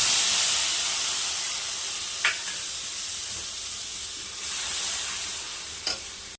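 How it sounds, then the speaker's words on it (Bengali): Spice paste with black cumin fries in hot oil in a pan, a steady close sizzle and hiss with a few brief clinks of a spoon stirring. "গরম কড়াইয়ের মধ্যে তেলের মধ্যে আমি এবার কালো জিরে ফোড়ন দিয়ে দিলাম।"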